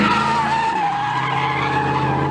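Street racing cars skidding in Charlotte, a loud sustained tire squeal over a roaring engine, harsh and continuous for a couple of seconds without speech.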